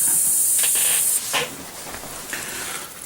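Airbrush spraying Mr. Color lacquer paint on a model kit: a loud steady hiss for about a second, then cut to brief softer sputtering bursts as the pressure is lowered.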